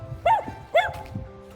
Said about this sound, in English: I was not expecting to be barked at.